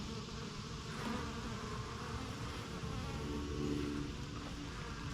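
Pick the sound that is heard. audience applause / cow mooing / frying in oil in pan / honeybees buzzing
honeybees buzzing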